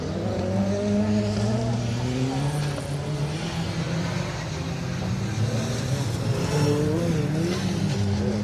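A Citroen C2 R2 Max rally car races through a circuit rally stage, engine revving hard with rising and falling gear changes, loud and sustained close by.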